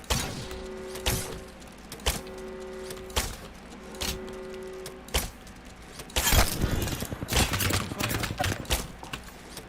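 Gunfire from enemies in Apex Legends cracks out in sharp, separated shots, then a denser burst of rapid fire toward the end, mixed with in-game beeps and clatter.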